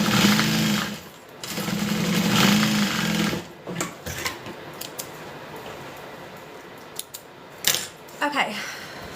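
A sewing machine stitches handbag fabric in two sustained bursts of mechanical whirring, followed by quieter clicks and handling noises as the work is adjusted.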